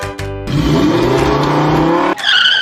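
A four-wheel e-bike with an 1,800-watt motor accelerates hard, giving a loud, close whine that rises steadily in pitch, then cuts off briefly before a shrill high-pitched whir returns.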